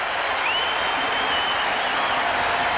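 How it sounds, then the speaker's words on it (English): Baseball crowd at a stadium game between the Baltimore Orioles and Cleveland Indians, a dense, sustained roar of cheering and applause from the stands, steady and somewhat distant. "And now the crowd is getting into it."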